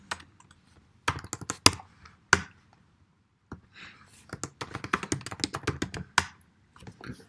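Keystrokes on a computer keyboard as a git command is typed, coming in quick irregular bursts of close, crisp clicks separated by short pauses.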